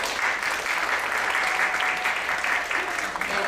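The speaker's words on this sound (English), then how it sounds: "So a big round of applause to all of them." Sustained audience applause after children's Carnatic music performances of the Pancharatna Kritis and a jugalbandi, a dense steady wash of clapping from a full hall, loud and even throughout with no one talking.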